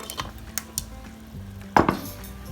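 Fresh clams go into a pan of linguine clam sauce with lemon juice, landing as a sharp clattering rattle of shells against metal partway through, after a few light clinks over a quiet sizzle.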